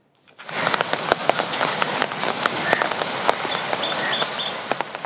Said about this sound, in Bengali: বৃষ্টি এ যেন স্বস্তি আর তাপপ্রবাহের শাস্তি থেকে মুক্তির পথ